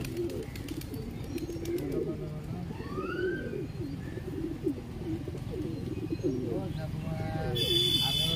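Pigeons coo softly at scattered grain, several low throaty calls repeating close by, with a person talking over them and brief chirps in the background.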